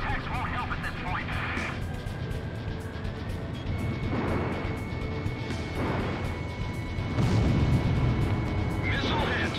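Missile impacts in the video game Ace Combat Zero: The Belkan War: dull booming bursts rise over a constant roar of jet engine noise, with radio voices talking throughout.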